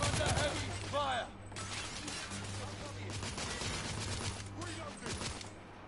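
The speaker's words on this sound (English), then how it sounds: "I'm under heavy fire." Heavy gunfire in the video game The Order: 1886 rattles in rapid, dense bursts through most of the stretch, with game voices speaking over the shooting.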